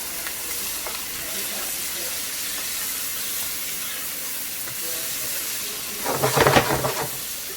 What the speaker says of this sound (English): we're gonna saute this until it's get nice and soft